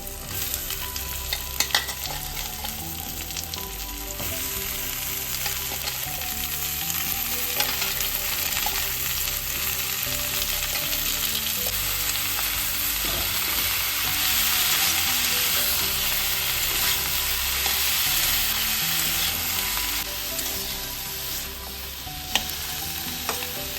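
Vegetables sizzle and fry steadily in a hot pan while being stirred for a catfish stew, a continuous close crackle with occasional clinks of the utensil against the pan.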